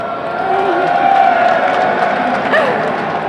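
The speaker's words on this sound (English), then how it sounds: "Can you cheer for him?" Crowd cheering and yelling at a Gamescom 2013 Dota 2 esports event, a steady loud roar of voices that swells slightly and holds throughout.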